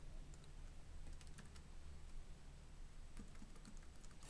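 Rapid keystrokes on a computer keyboard while entering invoice details in Excel, a light irregular clatter of quick taps in bursts, close but quiet over a steady low background hum, with no talking.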